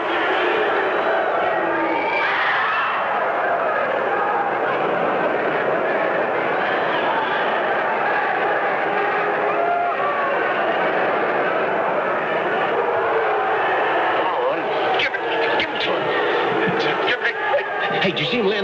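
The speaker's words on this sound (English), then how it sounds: "That crowd roar." Dense crowd roar at a boxing fight, a sustained loud wash of voices and cheering that holds evenly throughout, with a few sharper bursts near the end.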